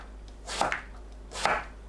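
A knife slices an eggplant into thin rounds on a cutting board, making two distinct soft crunching cuts about a second apart, close and clear, with no talking.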